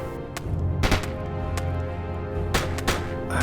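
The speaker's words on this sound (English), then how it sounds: "The Dutch fire a devastating volley." A musket volley fired by Dutch troops in a Napoleonic-era battle, heard as several sharp, loud cracks and booms spread across a few seconds over a low continuous rumble, with no talking.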